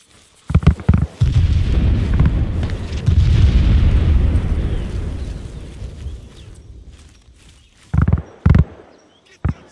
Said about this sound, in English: Give me 4 rounds HE and Willie Pete. Fire for effect.